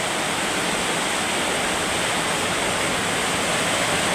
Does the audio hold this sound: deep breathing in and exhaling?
no